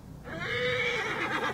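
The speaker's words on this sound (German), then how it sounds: "Das Pferd sagt ja." A horse in the Assassin's Creed Origins video game lets out a single loud, clear whinny that rises and trembles for about a second, with no talk over it.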